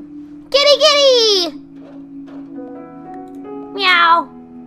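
In the video game Lumino City, a cat gives two loud, drawn-out meows with a steady tone droning underneath and a pause between them.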